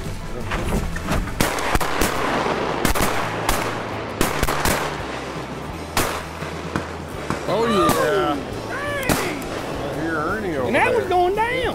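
Sharp gunshots crack repeatedly during a duck hunt over a steady background, some close and loud, with duck calls quacking in the later part and voices talking.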